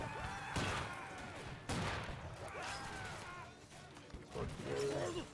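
Musket volleys crack out in Battle Cry of Freedom, a Civil War-era battle game, as several loud, ragged bursts a second or so apart, with voices shouting over the clamor of battle.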